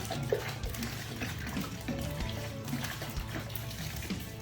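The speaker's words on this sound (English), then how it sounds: "I'm going to end up with about 5 liters of each of these liquid ingredients that I'm adding" Liquid sangria ingredients such as margarita mix are poured into a large batch for a party, giving a steady splashing, trickling stream close by that runs continuously with no talk.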